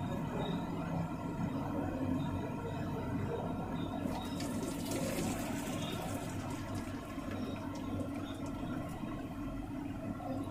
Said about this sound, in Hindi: अब मैं एक छलनी में ये नूडल्स के पानी को डाल दूंगी, जिससे एक्स्ट्रा पानी नीचे गिर जाए।